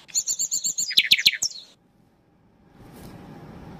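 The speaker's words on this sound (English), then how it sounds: "Bird." Bird chirping: a quick run of bright, close tweets in a steady rhythm, a few sharper calls, then silence and a soft rustling noise.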